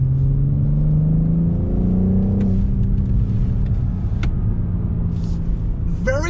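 A 2021 BMW M440i accelerating hard, its engine note loud and close as it climbs steadily in pitch, then drops with a gear change before pulling again, a short tick near the end.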